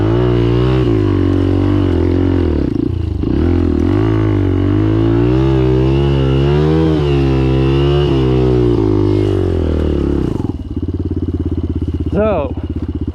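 A street motorcycle engine labours off-road straight up a steep mountain slope, loud and close, revving with repeated rising and falling pitch swings before dropping to a rougher idle near the end with one brief sharp rev.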